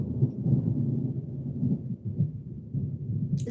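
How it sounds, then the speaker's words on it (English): Thunder rolls during rain as a continuous deep, fairly loud rumble that swells and eases slightly without a sharp crack, heard alone with no talking. "I don't know if you guys can hear that thunder. It sounds awesome though. It's like raining here."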